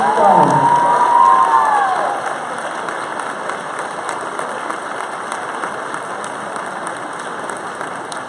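A high school gym crowd at a senior walk cheers and applauds National Merit Scholars, opening with a loud burst of shouts and a whistle, then settling into sustained clapping and chatter.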